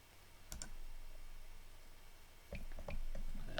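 A computer mouse gives a quick, faint double click in a quiet room, followed a couple of seconds later by several more soft clicks.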